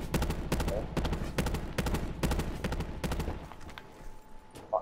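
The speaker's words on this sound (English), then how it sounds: "Sniper shots." Rapid bursts of gunfire from a battle royale video game, with repeated sharp shots arriving in clusters through most of the stretch before tapering off, and a faint tone at the end.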